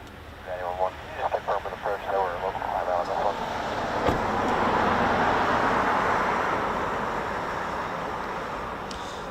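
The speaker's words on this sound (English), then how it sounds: "is it the C-146 on approach?" A C-146 aircraft is on approach, heard as a broad, distant engine rumble that slowly swells and holds, while a voice talks briefly over the start.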